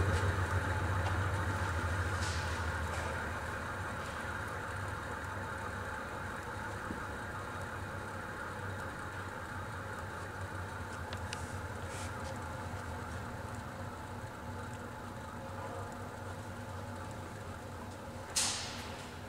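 A Rosler Z-800 semi-automatic centrifuge running with a steady mechanical hum that eases down as it winds down, with a few faint clicks and a brief knock near the end.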